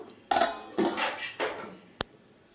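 A pot holding a poppy seed and turmeric dish is covered with a lid: a few close metallic clanks and scrapes, ending in one sharp clink as the lid settles.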